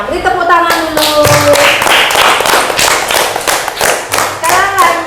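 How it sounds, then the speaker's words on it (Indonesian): A class of students claps in unison during a lesson, a run of sharp rhythmic hand claps lasting several seconds, with a teacher's voice speaking over the start and end. "Beri tepuk tangan dulu."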